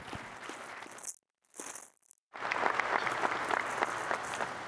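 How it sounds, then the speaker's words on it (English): Audience applause at a basketball coach's introductory press conference, a moderate wash of clapping that cuts out briefly twice, then returns fuller and steadier, with no voices heard. "Please give them a round of applause."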